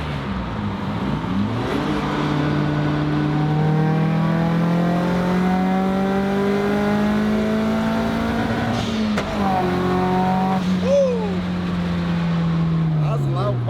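Inside a loud JDM drift car with no sound deadening, the engine drones and revs, its pitch rising and falling with gear changes, brief crackles and pops breaking through near the end.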